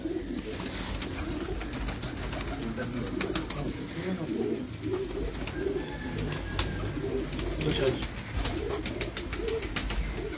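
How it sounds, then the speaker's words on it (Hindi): Pigeons coo repeatedly in a Lahore loft, soft low burbling calls rising and falling close by, with sharp clicks and a little quiet talk in the background. "ये जेन्युइन कबूतर है, ओरिजिनल"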